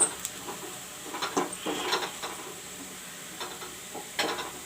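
Onions frying brown in a pan, a soft low sizzle punctuated by several scraping stirs and light utensil clinks against the pan, fairly quiet with no talking.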